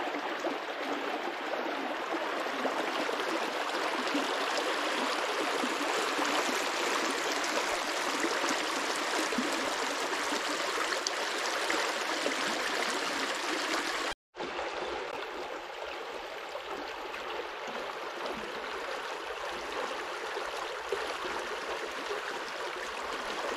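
Steady rushing flow of water pouring from the Fryderyk adit outlet in Tarnowskie Góry, a continuous broadband stream sound close by with a brief break midway, no talking.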